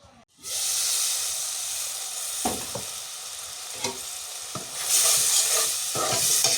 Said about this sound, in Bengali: টমেটোটা আর একটু ভালো করে কষাই